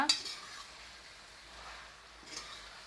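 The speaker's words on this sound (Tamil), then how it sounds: "அப்படியே கிளறி விட்டுக்கோங்க." A spatula stirs fried dragon chicken in a frying pan, making a faint, soft scrape and low sizzle with a couple of light utensil taps near the start and end. No one speaks.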